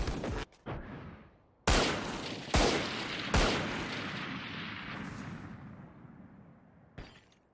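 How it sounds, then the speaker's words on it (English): A flashbang and gunfire in a competitive tactical shooter esports match, fighting for control of mid: several sharp loud bursts with ringing decay, then a final burst after a lull, no talk. "A fight for the control of the mid is going on. Zakuro throws a flashbang."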